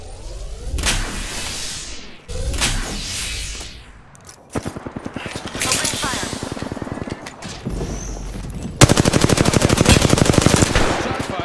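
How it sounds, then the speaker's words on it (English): Automatic gunfire from the battle royale shooter Apex Legends: several loud, rapid bursts separated by short pauses, ending in a long sustained volley of fast, evenly spaced shots, with no talking. "Opening fire. Shot fired, and they're hitting me."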